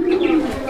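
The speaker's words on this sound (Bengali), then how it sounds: "কবুতরের জোড়াটা ইন্দোনেশিয়ান কালারের শৌখিন কবুতরের একটা জোড়া" A pair of fancy Indonesian-colour pigeons gives a short, low, close coo, with someone talking alongside.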